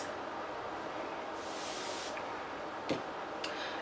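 A short hiss of cleaning spray onto a cotton swab for cleaning microdermal piercings, quiet and close, followed by faint taps and handling noises.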